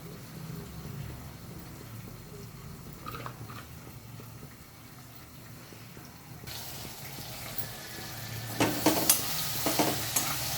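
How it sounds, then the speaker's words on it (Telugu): Green chillies fry in a pan while being stirred, a soft sizzle that swells into a louder, crackling fry with scraping and clinking of the spoon against the pan. "వేసినాం కదా అని అసలు కలపకుండా ఊరుకోవద్దు కలుపుకోవాలి అప్పుడప్పుడు లేదంటే మాడిపోతాయి"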